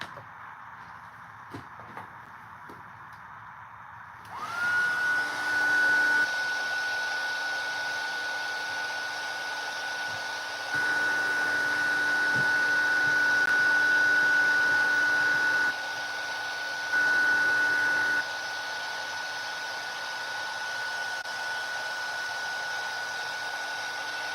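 A heat gun heating embossing powder switches on after a few seconds of quiet and blows with a loud, steady whooshing hiss and a whine, dipping briefly a couple of times.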